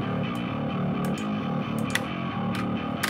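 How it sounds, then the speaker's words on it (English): A bass guitar played through an amp and a distortion overdrive pedal for a metal mix chugs out gritty, rhythmic notes with sharp pick attacks, loud and alone with no talking. "split the signal and ran the other side through an amp and a distortion overdrive pedal."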